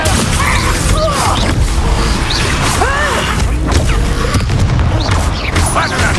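A Descendo spell slamming a target down in Hogwarts Legacy, a loud, dense stretch of booming impacts, whooshes and crashes from combat, with a voice calling out amid the clamour.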